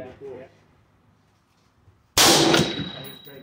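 Steel target struck during a 50-yard suppressive fire drill: after near silence comes one sudden loud, sharp impact that leaves a sustained metallic ring hanging in the air.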